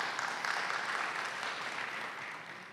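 A church congregation at a Sunday service claps together in a soft, steady wash of applause that fades slightly toward the end, heard from a distance with no talk over it.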